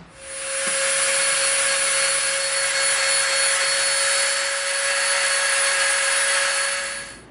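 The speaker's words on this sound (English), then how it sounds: "These we're going to Dremel off the edges" A Dremel rotary tool sands the edges of EVA foam pieces, giving a close, loud, continuous high whine with gritty abrasive hiss that holds steady for several seconds with no talking.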